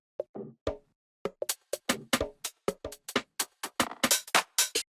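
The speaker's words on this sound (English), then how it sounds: "Like a really deep sounding shot." Deep percussion shots in a minimal house beat, a steady run of short, punchy hits repeating in a tight rhythmic pattern.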